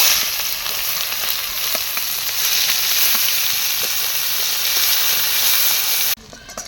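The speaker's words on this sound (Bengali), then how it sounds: "ওই তেলে ফোড়ন দিয়ে দিচ্ছি জিরে আর শুকনো লঙ্কা, কুচনো পেঁয়াজ।" Cumin seeds, dried red chilli and chopped onion fry in hot oil with a loud, steady sizzle, dense crackling hiss close by and continuous, cutting off abruptly near the end.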